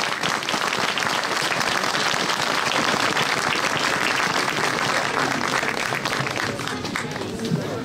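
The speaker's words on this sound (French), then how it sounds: "Nous pouvons les applaudir." Dense, loud applause from an audience at a Saint Vincent wine fraternity induction ceremony in Fyé, a continuous wash of many hands clapping throughout, with some voices in the crowd.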